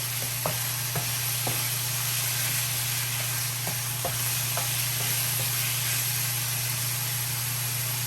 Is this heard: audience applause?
no